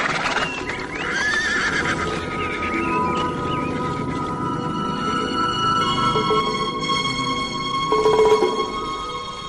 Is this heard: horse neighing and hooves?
yes